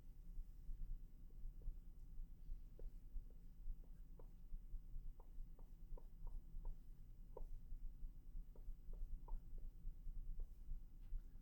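Pen or pencil writes out an equation by hand, giving faint, soft scratching strokes and small taps in an irregular rhythm over a quiet steady room hum, with no talking.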